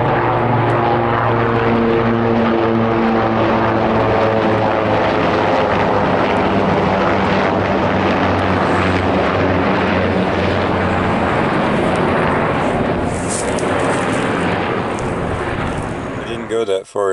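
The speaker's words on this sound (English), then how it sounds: "military helicopter attack" Military helicopters fly overhead with a loud, sustained engine and rotor drone and a steady harmonic hum. The noise stays close and heavy before cutting off abruptly at the end.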